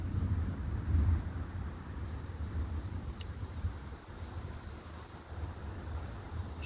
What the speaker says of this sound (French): Il y a le vent qui entre maintenant dans cette cellule là.